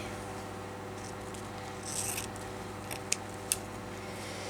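Scissors cutting through fabric for a crazy patchwork journal cover, quiet close snips with a brief rustle and two sharp clicks near the end.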